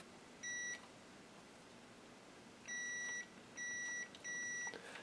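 A continuity tester checks an Amiga 1000 keyboard switch and sounds four sharp, high electronic beeps, one short and then three in quick succession, clear above a quiet background hiss.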